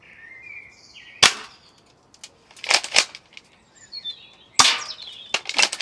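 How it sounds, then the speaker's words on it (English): A BB gun fires at a Coke can outdoors: a few separate sharp cracks and metallic pings spaced seconds apart, with birds chirping faintly in the background. "Okay, I'm just going to shoot it now."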